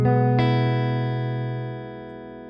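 Electric guitar run through a Myriad Fuzz pedal into a 1968 Fender Deluxe Reverb amp, black-faced and modified, ringing out as a sustained fuzzy chord that is struck again early on and then slowly decays.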